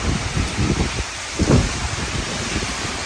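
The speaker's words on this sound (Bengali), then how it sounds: "ভীষণ ঝড় হচ্ছে" A heavy storm with strong wind and rain makes a steady, loud roar of gusts and rainfall, swelling into a stronger blast partway through.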